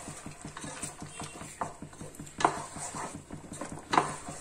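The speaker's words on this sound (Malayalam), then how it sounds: "കൈവിടാതെ ഇളക്കി കൊടുത്തോണ്ടിരിക്കണം." Banana halwa mixture being stirred in ghee in a pan, with steady rhythmic scraping strokes repeating about four times a second, close and moderately loud, plus a couple of sharper clinks of the spoon against the pan.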